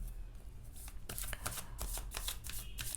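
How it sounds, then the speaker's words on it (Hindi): Tarot cards are shuffled by hand in a close, quiet room, giving a series of crisp riffling bursts and soft slaps repeated in quick succession with no voice over them. "जब तक मैं कार्ड शफल कर रही हूँ"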